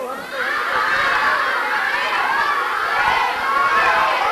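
A group of children in a Hindi-language values class shout an answer together, a loud sustained crowd of young voices filling the whole moment.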